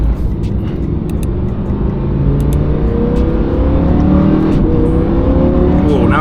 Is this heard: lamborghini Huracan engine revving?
yes